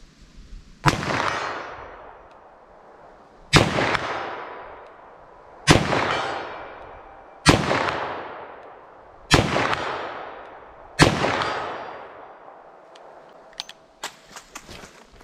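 Six loud revolver shots firing Fort Scott TUI ammunition, each a sharp crack with a ringing decay, spaced roughly two seconds apart outdoors, with no talk between them.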